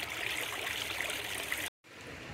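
A small creek in North Carolina gold-prospecting country flows and trickles steadily close by, a continuous bright rushing wash that cuts out briefly near the end before resuming.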